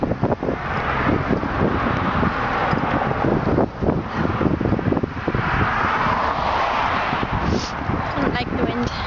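Wind blows outdoors among dandelions, a loud, continuous, gusty rumble buffeting the microphone for the whole stretch, with faint voices mixed in.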